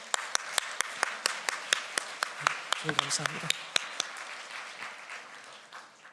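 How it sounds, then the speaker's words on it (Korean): A church congregation at a Christmas sermon applauds, with steady, evenly spaced claps over a softer crowd wash and a brief spoken thanks from the pastor in the middle. "그 예수님께 우리 영광의 박수 올려드릴까요?"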